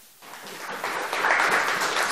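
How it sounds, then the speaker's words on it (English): A church congregation breaking into a round of applause, starting from near silence and swelling quickly into steady, dense clapping over two seconds. "Give her a round of applause"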